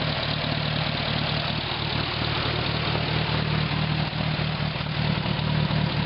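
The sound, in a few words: 1943 WWII Hobart A3 generator with Hercules engine running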